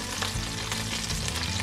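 Spicy Korean chicken wings fry in hot oil, giving a loud, steady crackling sizzle that runs unbroken throughout.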